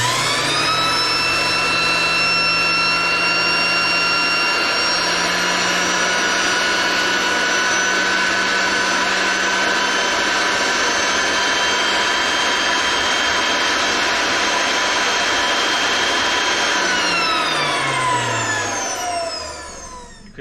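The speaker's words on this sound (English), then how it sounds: "What we're going to do is very lightly run it across the face of that armature as it's running." Edger motor armature spinning at steady high speed with a whining hum while an abrasive stone seats the brushes, then the whine falls in pitch as it spins down at the end.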